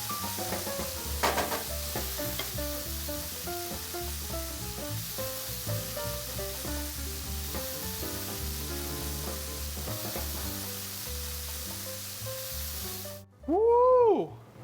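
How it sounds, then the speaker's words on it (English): Chicken fried rice stir-fries in a frying pan with a steady hiss and sizzle under background music, followed by a brief burst of louder sound at the end. "you're gonna pour in your sauce mixture and continue stir frying till everything's all mixed up"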